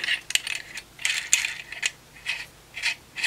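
Metal end piece being threaded onto a hand rivet nut tool, with a quick series of close, light metallic clicks and scrapes in uneven bursts.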